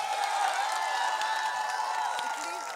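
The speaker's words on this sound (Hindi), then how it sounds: "जोरदार तालियां।" A large audience at a live poetry and literature festival breaks into cheering and clapping, a broad crowd roar that stays loud throughout and only eases slightly toward the end.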